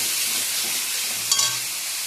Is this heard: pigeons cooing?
no